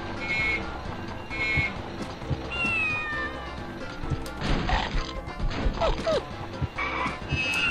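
Cats meow repeatedly in the video game 101 Dalmatians II: Patch's London Adventure, sharp cries spread over a layered game soundtrack, joined midway by crashing, thwacking hits and a few more yowls.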